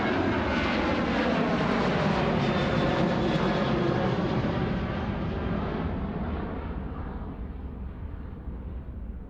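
An airliner at Ted Stevens Anchorage International Airport in Alaska roars past, giving a loud, sustained broadband engine rumble that slowly fades as the aircraft moves away.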